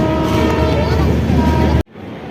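A train rumbles past close by in a loud, steady broadband roar that cuts off abruptly near the end, leaving quieter background noise, with a voice faintly present.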